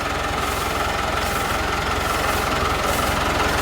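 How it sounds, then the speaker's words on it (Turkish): A tractor engine idles steadily at the edge of a peanut field before spraying, a continuous low, rumbling drone with a faint knocking pulse, close and even in level throughout, with no voices. "Şimdi traktörümüze bineceğiz, devam edeceğiz ilaçlamaya."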